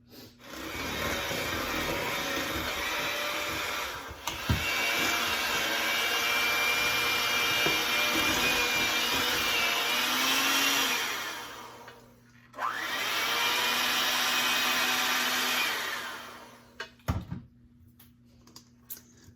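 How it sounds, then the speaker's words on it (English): An electric mixer beating flour mixture into an egg and sugar batter, a steady whirring drone that runs for several seconds, cuts out briefly, then resumes before stopping with a few knocks. "I'm going to lightly beat in the flour mixture."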